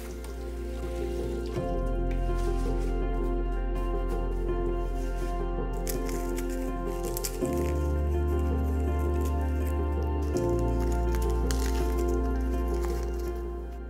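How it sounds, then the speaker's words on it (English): Jasmine rice being rinsed and drained gives continuous wet splashing and rushing water, with steady pouring broken by a few shifts in flow. "Rinse and drain the rice to get rid of the excess starch."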